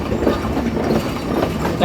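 The Rupsha Express rolls along the rails near Parbatipur Junction in Bangladesh, a loud, continuous rumble of wheels with faint clatter throughout the short stretch.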